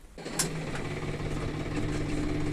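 A New Holland TT4.65 tractor diesel engine, freshly fitted with an adjusted eccentric and injection pump, starts up and settles into a steady, close idle with a low rumble.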